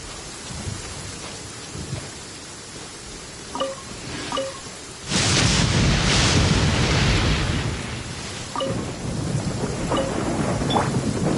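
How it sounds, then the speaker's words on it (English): Heavy rain in Genshin Impact, a constant dense downpour that swells into a loud rumbling roll of thunder midway, then continues as steady rainfall with scattered faint drips, no voices. "This heavy rain must be quite an inconvenience for you."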